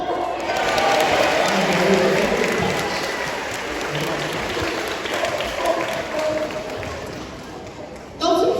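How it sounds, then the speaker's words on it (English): Audience at an outdoor sea lion show at Knowsley Safari applauds steadily, a dense wash of clapping and crowd noise that fills the whole stretch, with a fresh burst near the end. "give him a big round of applause for me"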